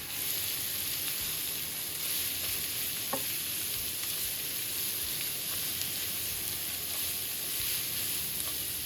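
Cabbage, carrot, green chili, garlic and onion fry in oil, giving off a continuous dense sizzle that stays loud and even throughout, with a few faint stirring clicks over the hiss and no talking.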